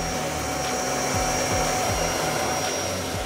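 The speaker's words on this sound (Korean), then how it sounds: "침대 매트리스는 특수한 청소기가 있어야 청소를 할 수 있기 때문에" A special vacuum cleaner used to clean a bed mattress, running as a steady, loud whirring hum throughout with a faint high whine and slight rhythmic pulsing, alone.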